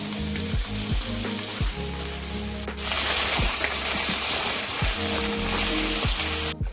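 Taro pieces frying lightly in a little oil, a steady hiss and crackle of sizzling with occasional stirring clinks, close and continuous.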